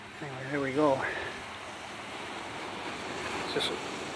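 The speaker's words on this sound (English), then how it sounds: "It's just waves continuously eroding the hill away, the mountainside." Ocean waves eroding a coastal hillside, a steady broad rush of surf and wind noise with a brief voice-like sound near the start, fairly faint and continuous.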